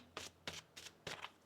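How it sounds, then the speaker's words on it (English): Tarot cards are shuffled by hand in four quick riffling bursts, crisp and close, with short pauses between and no voices. "One more shuffle here."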